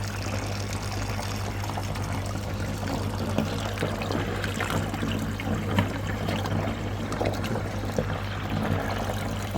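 Water from a koi pond runs down a drain pipe, a steady trickling and gurgling flow over a constant low hum, close and moderately quiet, with no talking.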